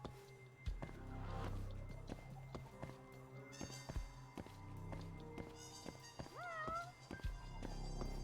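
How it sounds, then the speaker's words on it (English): A pet cat meows close by several times indoors, with a rising, wavering call near the end, over soft footsteps, taps and background rumble. "I'm gonna need you to meow again, buddy."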